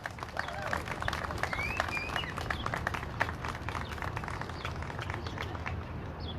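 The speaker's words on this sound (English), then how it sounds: "Give a round of applause to Joyce." A crowd claps in sustained applause, dense and steady for several seconds, with a few faint whistles over the clapping.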